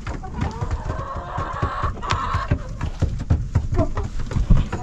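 Chickens cluck and squawk in short bursts close by, with scuffling and movement noises mixed in, as peafowl are let out on a homestead.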